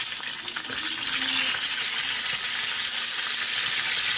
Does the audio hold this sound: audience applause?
no